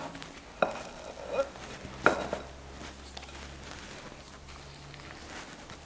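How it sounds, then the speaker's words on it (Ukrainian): Beaten eggs are gently stirred into curd cheese in a bowl, giving a few soft taps of the utensil on the rim and quiet wet mixing sounds, close and subdued. "Додаємо до сиру збиті яйця. Легенько перемішуємо."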